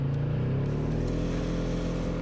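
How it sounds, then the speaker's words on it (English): A 2017 Polaris Sportsman 570 SP ATV engine-brakes downhill with downhill assist engaged, giving a steady, close, droning engine hum that holds an even pitch throughout with no talking. "Downhill assist. There's that engine braking."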